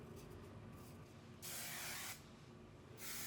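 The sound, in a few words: hairspray being sprayed on hair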